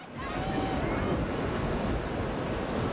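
Roaring wind and heavy rain from a hurricane, a dense, continuous rush that is loud and unbroken for the whole span with a faint whistling gust layered on top.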